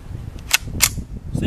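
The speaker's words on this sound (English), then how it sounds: "next caliber we're using is the Danny's beautiful wood grain Ruger 10-22, and we're using CCI mini mag" Two sharp, loud reports from a wood-stocked Ruger 10/22 rifle firing CCI Mini-Mag .22 rounds, spaced about a third of a second apart, with a third fainter crack at the end over low outdoor rumble.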